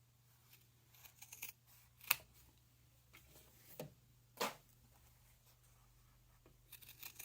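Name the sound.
scissors trimming fabric seam of a clutch purse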